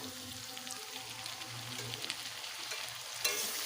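A ground paste of ginger, cumin and dried chili fries with vegetables in a close, continuous sizzle, stirred throughout with soft scraping and a brief clatter near the end.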